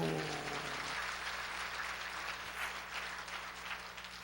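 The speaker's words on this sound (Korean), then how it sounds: "하나님께 영광의 박수." Church congregation applauding during a Korean sermon, a steady wash of clapping lasting several seconds, with a faint held tone underneath at the start.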